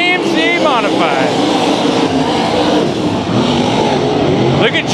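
IMCA Modified race cars roar around the dirt oval at Bakersfield Speedway, a dense, continuous engine wash with cars passing close, while an announcer's voice calls the action over it.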